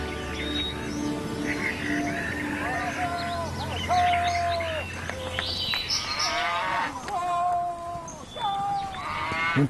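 Cattle low several times at a rural spring field, drawn-out moos rising and falling over birds chirping in the background, with faint human sounds mixed in.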